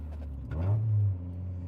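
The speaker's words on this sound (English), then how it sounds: "From inside the car without the windows like rolled down, the exhaust does not sound that bad" A Mazda Miata sports car engine briefly revs, a short deep exhaust blat that rises and settles back to a low idle, heard nearby.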